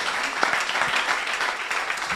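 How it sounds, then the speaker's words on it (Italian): Studio audience at a women's football TV show season finale applauding steadily, a dense wash of clapping from many hands, even and sustained for the whole stretch. "Un applauso ancora per Matteo Fattorelli"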